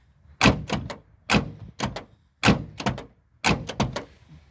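A Renault 12 TSV car door is repeatedly shut after adjustment, giving four close, evenly spaced rounds of solid thunks, each followed by quick latch clicks and rattles.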